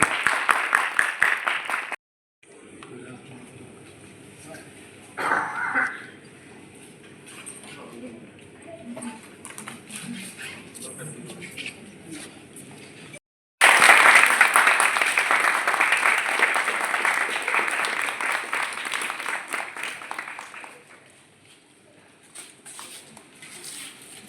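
An audience at a book launch breaks into loud, dense applause lasting several seconds before tapering off, with quieter stretches of speech and murmur earlier.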